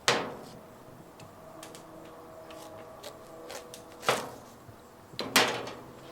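A knife cuts open a ripe, container-grown sugar baby watermelon: a sharp crack at the start, light ticks, then two more crisp splitting crunches near the end, close and clear with no voices.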